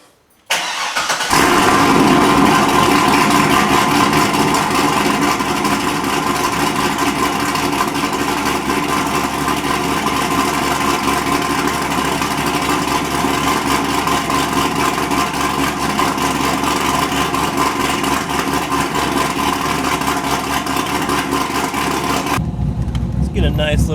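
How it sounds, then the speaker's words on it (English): A Chevrolet Corvette engine cold-starts with a sudden loud roar, then settles into a steady, loud, even idle that holds for about twenty seconds before cutting off abruptly. "So I feel like I owe you guys a nice cold start of the Corvette."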